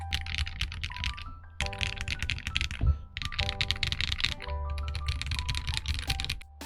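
Rapid keystrokes on a KBDCraft Israfel low profile split ergonomic keyboard with stock switches, with dense typing bursts separated by brief pauses, close and crisp with a deep tone, and no one speaking.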